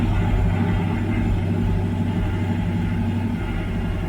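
A 1985 IROC-Z engine keeps running on after shutoff, dieseling with the idle set too high. It makes a steady, close, loud low rumble with no break across the whole stretch.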